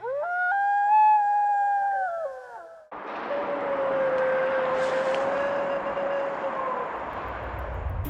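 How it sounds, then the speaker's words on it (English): Possible wolf howl recorded in Alaska: a long, wavering tonal howl rising and falling for a few seconds, followed by a steady broadband drone like a passing aircraft with a faint lingering tone. "It could possibly be a wolf howl."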